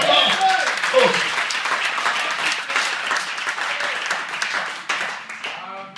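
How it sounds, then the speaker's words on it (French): Sustained applause from a church congregation during an evangelical sermon, steady clapping filling the room for several seconds with a few voices and shouts mixed in. "Est-ce qu'on peut m'applaudir?"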